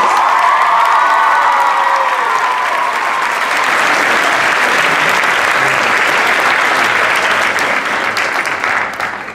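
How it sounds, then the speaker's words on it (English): Audience applauding at a benefit concert, sustained dense clapping from a large crowd with a few cheers and whoops, steady and loud for about nine seconds before beginning to taper at the end. "Let's give them a round of applause"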